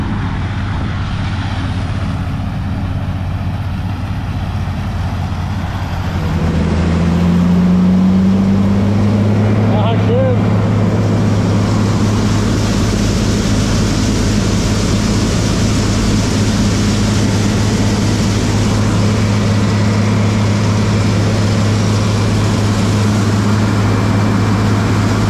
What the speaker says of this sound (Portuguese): Caminhão vindo.